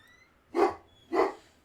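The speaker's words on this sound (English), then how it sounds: "My dog's barking." A dog barks twice indoors, two short, fairly loud barks about half a second apart against a quiet background, with no one talking during them.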